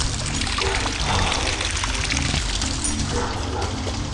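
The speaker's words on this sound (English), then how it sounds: "Yes, it's running water, and this time, a waterfall." Running water of a creek waterfall pours and splashes in a constant, close, broadband rush outdoors, steady and unbroken with no voices.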